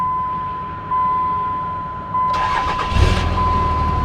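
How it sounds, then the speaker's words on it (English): A diesel truck with a new starter cranks briefly and fires up, settling into a steady rumbling idle at close range, with no talk over it. "I'm gonna try starting the truck, see what happens here."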